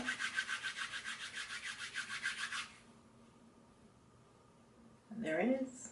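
Rhythmic scratchy rubbing of hair as a microloc extension is formed, a quick series of rasping strokes up close, then quiet and a short burst of speech at the end.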